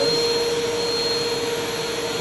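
A canister or upright vacuum cleaner, started with its foot-operated switch, runs with a steady, loud whirring roar and a constant high whine, close by and alone.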